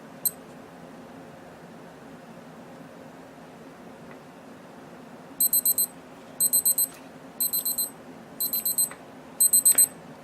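Five short bursts of rapid high-pitched beeping, evenly spaced about a second apart, sound from a Casio G-Shock GA-2000E digital watch as its timer alert goes off against a faint background hiss.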